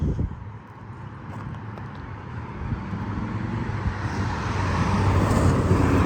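A classic car drives past on a small-town street in Wind Gap, Pennsylvania, its engine noise dipping briefly and then building steadily louder as it nears, over a general outdoor hum, with no voices.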